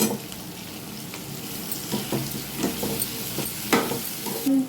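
Potatoes and pumpkin frying in a pan, a steady low sizzle with intermittent scraping stirs and light clinks, close up with no talk.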